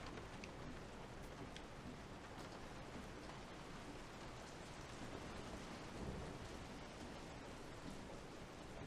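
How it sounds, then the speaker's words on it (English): Steady rain falls in Resident Evil 7, a dense, even hiss of downpour with a faint low rumble, quiet and continuous with no talk. "When did it start raining?"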